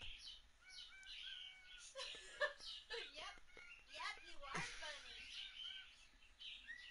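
A pet bird chirps and tweets in short bursts close by, with soft human chuckling and murmured sounds mixed in; nobody speaks clearly.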